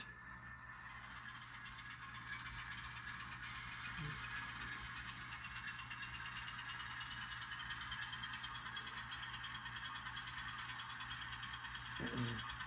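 An Atlas Gold Series N scale Alco S-4 switcher model locomotive, Southern Pacific #1474, runs with a steady electronic engine hum and faint mechanical whir, with a brief click near the start and another near the end as it changes direction.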